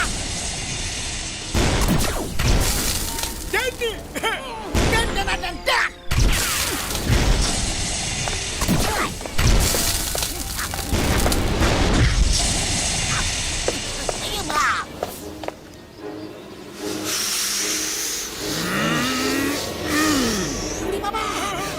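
Cartoon sleeping bombs fired in rapid succession, each launch and blast a sharp booming burst amid music and animated voices talking throughout, with several loud impacts clustered in the first half.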